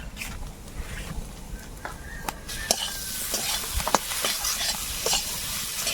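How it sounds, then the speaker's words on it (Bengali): Potatoes fry with green chillies, salt and turmeric in a pan, giving a continuous close sizzle with frequent scraping and clattering stirs that grow busier toward the end. "এইভাবে একটু আলুটাকে ভেজে নিই"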